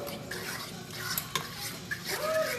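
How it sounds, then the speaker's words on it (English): A utensil stirs a pot of homemade marinara sauce for meatballs, giving soft scraping and clinking against the pan in a short, steady run with no talking. "let me get another utensil to stir this with"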